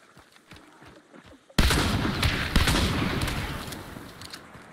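Gunfire in a multiplayer shooter video game, starting abruptly after a quiet stretch and turning into a loud, dense burst of shots that tails off slowly over several seconds.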